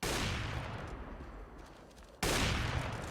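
Dense sustained wall bang gunfire in CS:GO on Dust2 during a pro match, loud continuous bursts that ease off briefly before a second heavy volley cuts in.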